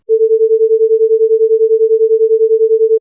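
Two slightly detuned sinusoids summed into a single steady mid-pitched tone whose loudness pulses in a regular beating pattern, about eight throbs per second, clean and loud for three seconds with no other sound.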